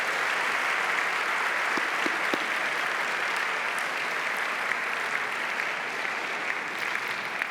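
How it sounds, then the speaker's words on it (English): Sustained congregation applause at a Friday night Shabbat service, dense and steady clapping from a large crowd filling the whole stretch with no speech over it. "a round of applause for all of our speakers."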